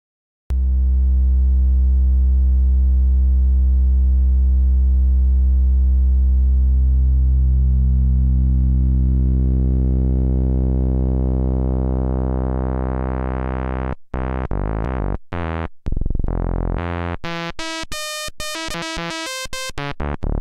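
A DIY analogue synthesizer VCO with linear FM and cross modulation drones as a loud, rich sustained tone that slowly brightens and sweeps, then breaks into rapid stuttering, warbling modulated bursts near the end, with no talking.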